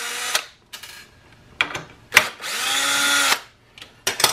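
Power drill backing screws out of door hinges, several short whirring bursts with brief pauses between, then one longer sustained run near the end, fairly close and loud.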